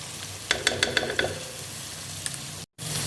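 Boiled chana dal tipped into a pot of karela and stirred, a few sharp scraping clinks of a spoon over a low sizzle, close, briefly cut by a moment of silence.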